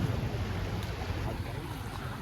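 Water of the Koozhangal river near Valparai during the monsoon rushes in a steady, dense broadband wash with a low rumble, continuous and fairly loud throughout with no voices.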